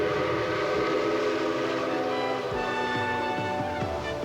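Royal Hudson steam locomotive hauling its train along a rail line, a steady loud rumble of running gear with sustained whistle tones layered over it throughout, close and continuous.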